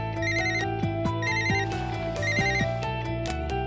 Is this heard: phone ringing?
yes